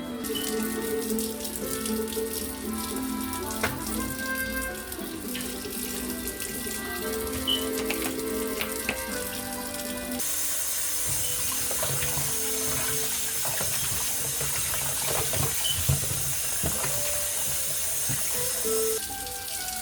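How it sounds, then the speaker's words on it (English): Raw chicken rinsed with vinegar and running tap water in a kitchen sink for Jamaican coconut chicken; steady splashing flow throughout, close and continuous, with small clinks and shifts in the stream. "So I'm gonna rewash it with some vinegar."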